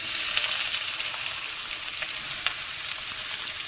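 Chopped onions fry with fennel and curry leaves in a steady, continuous sizzle with faint stirring clicks, close and alone.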